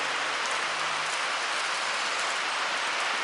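Steady rain falls outdoors beside a petrol engine fitted to a bicycle, a continuous even hiss of drops on surfaces with no voices.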